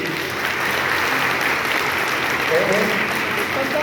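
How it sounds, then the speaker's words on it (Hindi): Audience at a business meeting in Varanasi clapping together, a loud, steady crowd of hands sustained throughout with a faint murmur underneath. "मैं चाहूँगा एक बार पहले तालियां बजा दो उनके लिए।"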